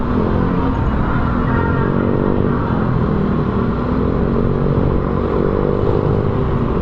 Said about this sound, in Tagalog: Grabe yung traffic oh.